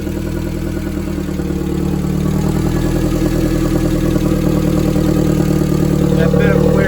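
A turbocharged Hyundai engine, running without its O2 sensor fitted, idles loudly and continuously, its low mechanical rumble rising slightly toward the end with a brief higher whine near the finish.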